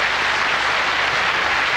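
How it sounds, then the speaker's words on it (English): Applause from a television game show studio audience, a steady, loud wash of clapping filling the short moment without any talk. "Give him a round of applause and good luck in what you're doing."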